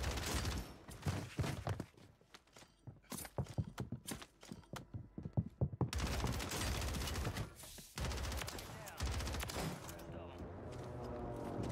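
Call of Duty Warzone gunfire on Rebirth Island comes as rapid, sharp shots in rattling bursts, followed by a denser continuous stretch of fire with game effects layered over it.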